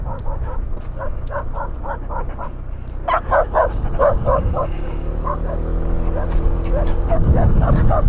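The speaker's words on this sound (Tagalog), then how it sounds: "Itong mga aso na to," Several dogs bark and yip in quick repeated bursts on a rural road in Zambales, with a low vehicle rumble underneath and brief whimpers, close and fairly loud throughout.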